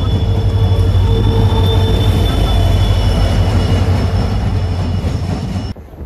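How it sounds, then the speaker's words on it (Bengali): A train departing near the Brahmaputra river rumbles loudly and steadily with metallic wheel squeal and clatter, fading slightly near the end. "তো ট্রেনে যাওয়া যাক, এখন ট্রেন ছাড়বে।"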